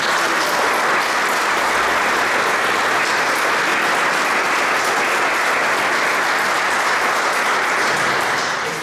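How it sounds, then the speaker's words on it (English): Guests at a civic reception in Stormont's Great Hall applaud the Somme Memorial Flute Band from Bangor, County Down, on its 25th anniversary, a long, steady roar of clapping that fades slightly at the close. "Give them a round of applause."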